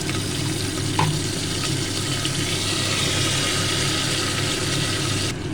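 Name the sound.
water poured into pan with frying ginger paste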